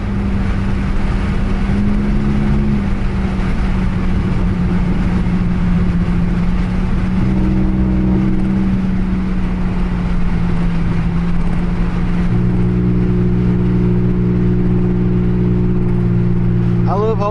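A Chevy Impala LT with a 3.9L V6 and straight pipe exhaust revs loud and holds a steady, droning note for a long stretch, the engine tone rising and settling at times, with a voice talking over it.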